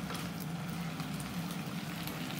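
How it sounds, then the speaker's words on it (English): Food bubbles away in a pan on a home stove, giving a steady close simmering burble with small popping bursts throughout, and no talking. "Look at that little bubbling away there."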